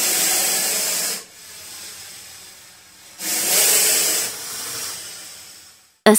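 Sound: snake hissing

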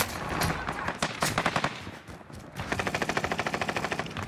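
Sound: MG42 machine gun firing from boat in video game Warzone

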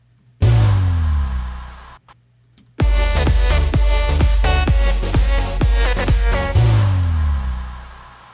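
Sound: synthesized sub-bass drop in the mix

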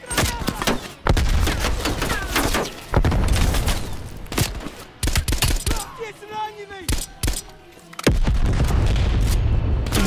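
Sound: grenade explosion in the video game Call of Duty: Black Ops Cold War

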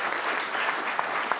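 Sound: audience applause

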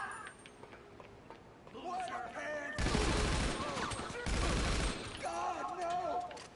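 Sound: Tommy gun firing in the video game GTA Online

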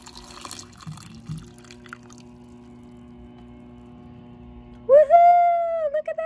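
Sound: hot milk poured over a cocoa bomb

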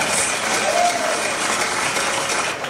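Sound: audience clapping at a comedy show

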